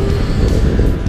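A 2017 Honda CBR650F motorcycle engine runs with a loud, close, continuous rumble, mixed with rushing wind noise.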